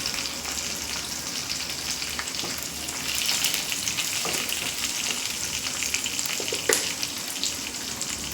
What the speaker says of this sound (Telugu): ఫ్రై చేసుకోవాలండి